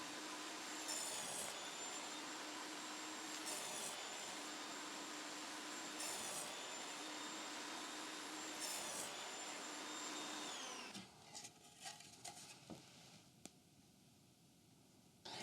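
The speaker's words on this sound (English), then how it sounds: "I'm going to show you two ways you can do it on a table saw." A table saw cuts a rabbet in a wood panel with a loud, steady whining roar, with rhythmic swells as the blade bites the wood, then winds down into clattering and quieter handling noises.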